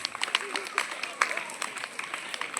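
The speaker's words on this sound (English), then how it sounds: "Claps, claps, claps." An audience claps after a kids' karate performance at a school event, with a brisk burst of many overlapping hand claps heard at a moderate distance and a voice talking over them.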